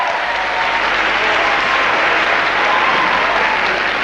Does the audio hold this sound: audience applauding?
yes